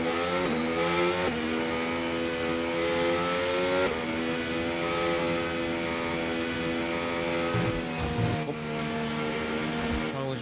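A Williams Formula 1 car's engine on a slow qualifying out lap at the Abu Dhabi GP in F1 25 whines steadily and loudly, stepping through a few gear changes as the revs rise and drop.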